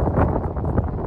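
Gusting wind buffets a boat moored in a sheltered anchorage in the Bustard Islands, a steady, loud, rumbling roar of wind and microphone buffeting that swells and eases with no voices.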